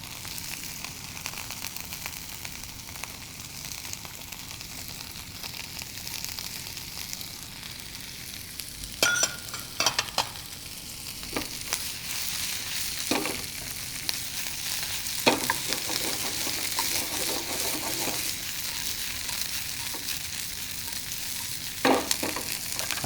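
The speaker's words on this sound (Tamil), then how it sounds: "அதை லைட்டாக சாட்டே பண்ண போகிறேன் உங்களுக்கு." Boiled vegetables sautéing in a pan, a constant bright sizzle and crackle, with occasional sharp clinks and scrapes from stirring close by.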